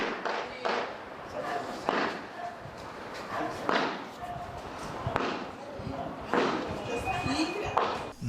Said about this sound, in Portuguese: Uma moradora gravou um outro momento dos tiros.